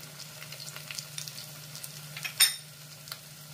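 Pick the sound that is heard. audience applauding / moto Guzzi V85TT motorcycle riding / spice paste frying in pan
spice paste frying in pan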